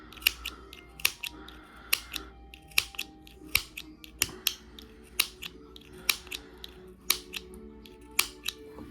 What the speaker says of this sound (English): I'm doing like 1/4 inch snips all the way across.